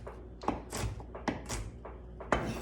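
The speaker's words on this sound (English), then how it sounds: "I will put my hand up here on the knife and kind of rock back and forth with this." A kitchen knife rocks back and forth on a cutting board while chopping ingredients for homemade marinara, giving a few soft, evenly spaced thunks close by.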